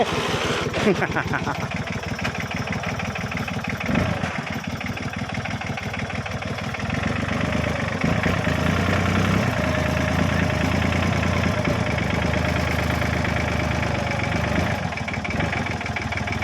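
A farm tractor idles with a steady, chugging mid-pitched rumble that stays constant throughout, while people talk over it.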